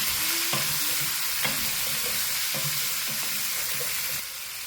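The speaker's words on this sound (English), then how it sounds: "Now let's stir fry the vegetables. Add the veggies." Vegetables stir-fried in a hot pan, a steady loud sizzle broken by several sharp scrapes and clinks of the utensil, close and alone without talk.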